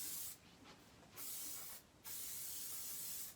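An aerosol can sprays fixative over a charcoal portrait in three long hissing bursts separated by brief pauses, close and steady with no voices.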